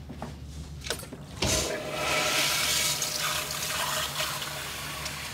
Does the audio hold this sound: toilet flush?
yes